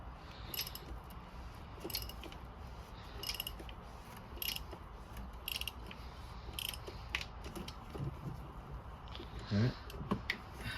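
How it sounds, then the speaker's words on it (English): A wrench works loose the oil filter housing cap on a BMW X5, giving bursts of quick ratcheting clicks close by over a low background hum, with faint voices at times. "you just start loosening your oil filter housing cap"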